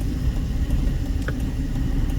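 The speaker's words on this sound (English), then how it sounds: "And we've got some cross traffic." Cross traffic on a Las Vegas street at Washington and A Street gives a steady, low engine rumble that holds evenly throughout, heard from inside a vehicle.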